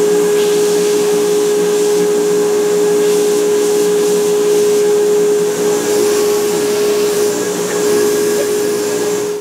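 A modified Grizzly radius sander runs on a guitar fretboard with a loud, steady motor drone and a constant high whine, holding close and even throughout.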